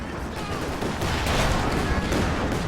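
Tank gun fire and battle noise from Company of Heroes 2, a dense, loud, continuous roar of gunfire and explosions throughout.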